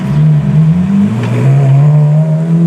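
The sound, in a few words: Ferrari F430 Challenge race car accelerating on street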